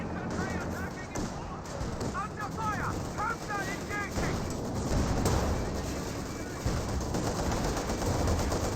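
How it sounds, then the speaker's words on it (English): Battle sounds from Company of Heroes 2 as a Panzer IV tank takes hits: dense, continuous gunfire and explosive impacts at steady loudness, with chirping bird-like tones in the first seconds. "Panzer IV takes some more hits."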